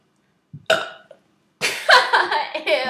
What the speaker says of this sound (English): we're gonna have a burping contest